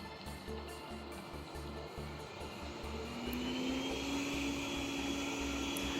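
A Yeedi Vac Max robot vacuum runs at medium suction with a steady, moderate whirring hum. The pitch climbs slightly partway through, and a faint rhythmic ticking from its movement sits underneath.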